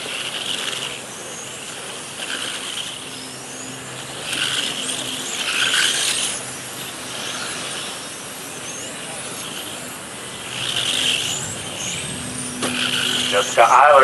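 Electric RC cars in a 17.5 club race at an outdoor raceway, motors whining and rising past the driver's stand through a chicane, with a commentator talking over the steady hum of the track.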